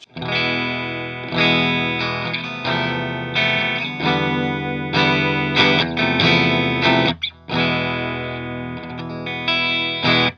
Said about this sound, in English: Really nice, warm Stratocaster sound.